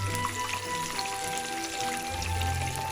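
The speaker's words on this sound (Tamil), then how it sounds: "ஏற்கனவே நாம் ரெடி பண்ணி வச்சிருக்கிற மீனை அதில் ஃப்ரை பண்ண போகிறேன்" Fish frying in sesame oil in a pan, Thai style: a steady, even sizzle and crackle of hot oil that runs unbroken throughout at moderate level.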